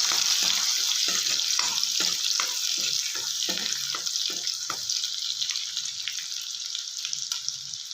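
Garlic sautéing in hot oil in a pan while cooking a leafy greens stir-fry, a bright steady sizzle with a run of soft stirring scrapes and clicks, heard close with no talking.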